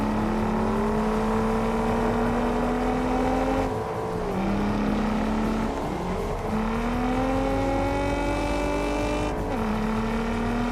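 Nissan GT-R in the TDU Solar Crown racing game, a loud continuous engine note rising and falling through gear changes as the car drives, with no talk over it.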